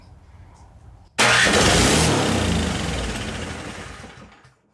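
A small salvaged engine cranks on its electric starter and fires up abruptly, settling into a loud, steady running roar that slowly eases off over several seconds.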